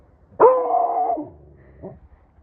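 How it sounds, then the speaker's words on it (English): A dog gives one close, drawn-out bark that turns into a howling whine, followed by a brief softer yelp in a quiet backyard. "that other dog doesn't like that"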